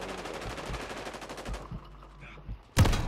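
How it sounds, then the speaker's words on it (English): Gunfire in a Call of Duty match: a rapid string of shots rattles for about a second and a half, a few scattered pops follow, then one loud close crack ends the clip. No speech. "I got sniped from across"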